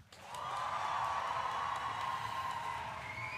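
A live studio audience at a German music quiz show bursts into applause and cheering for a rapper guest, rising quickly into a dense, steady wash of clapping that holds loud throughout.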